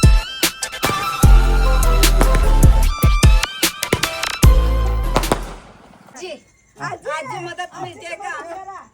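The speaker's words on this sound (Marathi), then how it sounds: "तोपर्यंत फटाके उडत" Firecrackers at a village wedding, a rapid string of loud sharp bangs crackling close by for several seconds, then stopping as voices take over.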